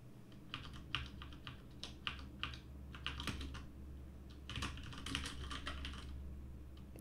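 Typing on a computer keyboard: irregular, fairly close key clicks in quick bursts with brief pauses, over a steady low background hum, with no talking.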